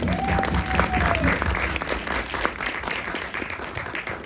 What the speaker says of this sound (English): I hear applause